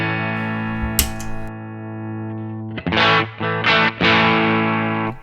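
Electric guitar through a Get Wired Studios Flip Flop Tweed overdrive pedal: a long sustained distorted chord rings out, then several choppy strummed chords follow, close and loud, with no talking.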